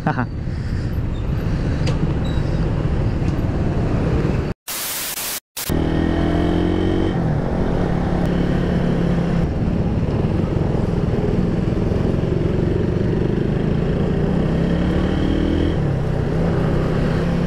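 An R150 motorcycle engine hums and revs in heavy traffic noise, with a person talking over it and a brief burst of static.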